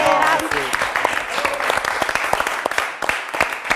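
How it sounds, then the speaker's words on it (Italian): An audience at a live Italian stage show claps steadily for several seconds, a dense patter of hands from a sizable crowd, with a voice briefly heard at the start. "L'applauso va alla nostra regia, Pierangelo Buttazzoni, Tommaso Ravo"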